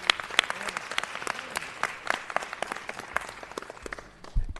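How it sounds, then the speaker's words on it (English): A room at a city council meeting breaks into a steady round of applause, many hands clapping densely for several seconds before it thins out near the end. "Let's give him a round, Brother Lions, a round of applause."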